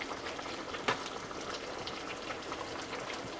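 Steady close bubbling and hiss from a pot of simmering fish stew broth with fish pieces poaching in it, continuous and even, with one soft bump partway through and no voices.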